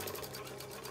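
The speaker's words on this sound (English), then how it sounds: "then I'm gonna stitch this at a 1/4 inch seam allowance, just down the clipped edge" A sewing machine stitching a quarter-inch seam along the clipped edge of a clear vinyl pouch, a steady fast mechanical whir with a rapid rhythmic needle pulse, close and continuous throughout.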